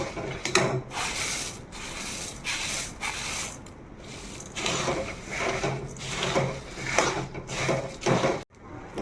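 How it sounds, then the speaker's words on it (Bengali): Puffed rice being stirred into melted jaggery in a pan off the heat, giving a steady run of dry scraping, rustling strokes in repeated bursts, close and fairly loud, with a brief break near the end. "এবার অল্প অল্প মুড়ি দেব আর নাড়তে হবে।"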